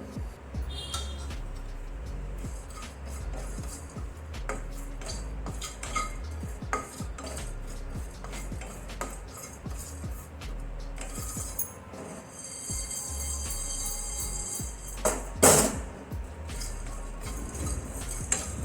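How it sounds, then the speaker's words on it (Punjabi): Black pepper and cumin dry-roast in a frying pan on a gas stove, with a spoon repeatedly scraping and clinking against the metal pan and faint dry rustling of the spices, close and fairly quiet. "ਹੁਣ ਮੈਂ ਮਸਾਲਿਆਂ ਨੂੰ ਥੋੜਾ ਜਿਹਾ ਆਪਾਂ ਫਰਾਈ ਕਰ ਲਵਾਂਗੇ ਭੁੰਨ ਲਵਾਂਗੇ"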